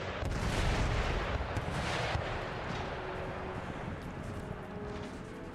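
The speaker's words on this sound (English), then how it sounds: "One of these howitzers is aiming at the Swiss line" Howitzer artillery in the strategy game Empire Total War booms out at the start in a heavy, muffled blast. A long, rolling, rumbling decay follows at a moderate level.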